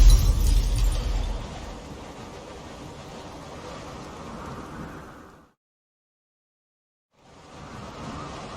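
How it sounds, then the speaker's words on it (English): Heavy rain and rolling thunder of a storm in The Witcher 3 video game, a loud wash of noise with a low rumble at the start that settles into steady downpour, cuts to silence, then returns. "Storm's over."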